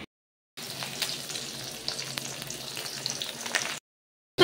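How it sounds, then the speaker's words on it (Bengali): Onions frying in a pan with a green chili tempering, after fish has been fried, with salt and turmeric added: a steady close sizzle with occasional stirring scrapes, starting after a short silence and cutting off before the end. "রাঁধুনি কাঁচা লঙ্কা ফোড়ন দিয়ে পেঁয়াজটা ভাজছি"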